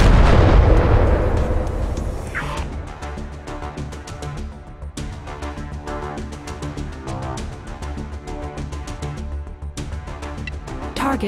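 Spaceship primary weapon in the space game Second Galaxy firing in a rapid, steady stream of sharp blasts after an opening boom, loud and continuous with no voices.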